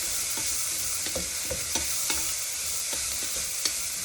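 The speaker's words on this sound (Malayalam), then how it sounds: "ക്യാരറ്റ് ഉള്ളിട്ടിട്ട് നന്നായിട്ട് ഇളക്കണേ" Carrots frying in oil in a pan over a medium flame, stirred with a utensil: a steady soft sizzle runs underneath while a series of quick scraping stirs clicks in at irregular intervals, close by.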